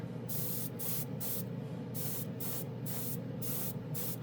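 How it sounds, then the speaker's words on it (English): Chrome paint sprays from a spray gun over an opaque painted surface in repeated short hissing bursts, about a dozen evenly paced pulses close up over a constant airy hiss and low hum, with no talking. "We wanted to see how it sprayed over an opaque color that is not black."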